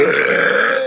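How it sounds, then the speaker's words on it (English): A single loud, drawn-out human burp, close and clear, with a steady low rasp lasting just under a second. "sometimes that actually makes me burp better"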